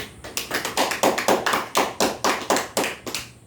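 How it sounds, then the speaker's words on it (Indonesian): A small classroom group claps for a student, a close, fairly loud run of about a dozen sharp, evenly spaced hand claps with no talking. "Kita beri tepuk tangan untuk Ardi"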